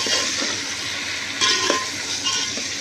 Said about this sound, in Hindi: अब इसमें शामिल करेंगे मसाले, और अच्छे तरीके से इसको करना है मिक्स।